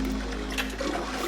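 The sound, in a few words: toilet flushing in a video game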